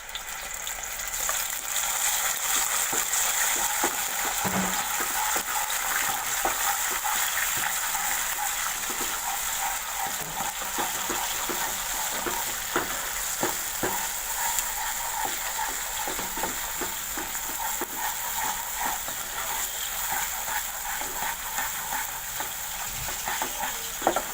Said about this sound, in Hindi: ये मसाला हमारा भून रहा है।